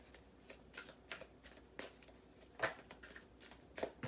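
Tarot cards being shuffled by hand: a run of quick, close riffling bursts in an uneven rhythm, fairly quiet, with no one speaking.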